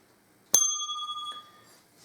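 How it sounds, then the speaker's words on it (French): A small hand bell struck once, ringing out clearly with a sustained shimmering tone that fades over about a second, followed by a lighter second touch. "toujours ma petite cloche"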